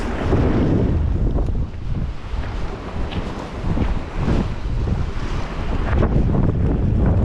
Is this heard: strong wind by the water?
yes